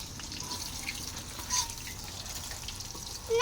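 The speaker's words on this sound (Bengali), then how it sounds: "এখনো বৃষ্টি হচ্ছে, এখনো ঝিরি ঝিরি হইতেছে।" Light, steady drizzle falls outdoors, a soft continuous hiss with scattered faint drips, fairly quiet and even throughout, with no voices.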